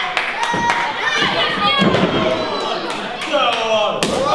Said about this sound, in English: Shotgun style dropkick sends Lee into the top turnbuckle